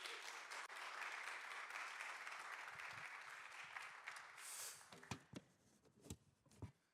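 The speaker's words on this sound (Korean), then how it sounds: "우리 곽대선 목사님 말씀 전하러 올라오실 때 우리 큰 박수로 환영하겠습니다." A church congregation at a young adults' service applauds to welcome the pastor to the pulpit, a sustained crowd clapping that fades out into scattered thumps and clicks near the end.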